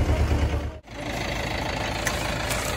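A Mahindra Jivo 305 4x4 tractor's diesel engine idles with a low, steady rumble and knock, briefly dipping before settling back into a constant chug nearby.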